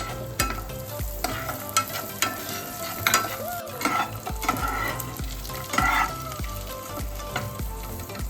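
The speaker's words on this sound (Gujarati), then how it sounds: "આપણે કાજુ અને બદામને પહેલાં આપણે રોસ્ટ કરી લઈશું" Cashews and almonds being roasted and stirred in a pan, with steady rhythmic scraping and rattling over a continuous sizzle, close and fairly loud, no talking.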